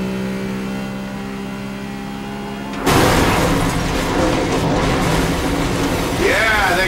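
Burnout 3 car engine revving hard, a steady high drone that erupts into a loud roaring rush with crashing noise and whooshing, continuous and up close.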